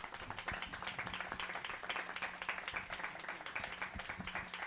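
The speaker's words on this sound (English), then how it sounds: "let's give these guys a round of applause." Modest applause after a mayoral candidate debate, a smallish crowd clapping at a fairly quiet level with distinct individual claps audible in an uneven, sparse rhythm.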